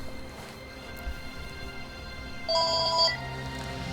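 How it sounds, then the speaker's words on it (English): A phone ringing with an incoming call, one brief electronic ringtone chirp rising clearly above a quiet background hum. "And I'm getting a phone call."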